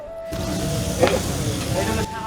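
Hilsa fish fries in hot oil at a riverside eatery at Mawa Ghat on the Padma, a close, steady sizzle with a brief louder burst midway and faint background hum.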